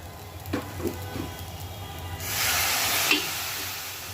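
Milk poured into a hot pan of lightly fried ingredients for Mughal-style payesh (firni) sets off a sudden broadband sizzle that swells and holds for a couple of seconds, with a few soft utensil knocks before it.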